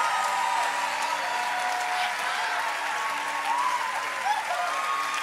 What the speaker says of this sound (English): give them a celebration cheer